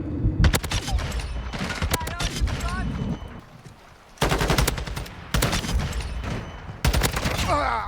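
Video game gunfire while shooting bots, rapid bursts of shots in several loud clusters separated by brief pauses, with a voice talking over them.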